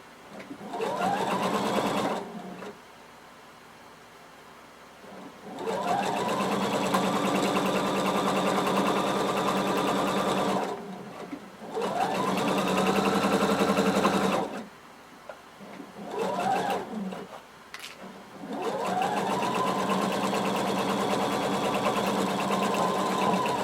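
A sewing machine stitches a sleeve cap into a floor-length duster cardigan, running in four steady bursts of even, fast stitching separated by short pauses.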